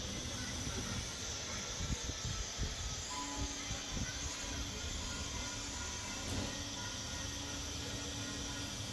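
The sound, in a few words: fish frying in oil, sizzling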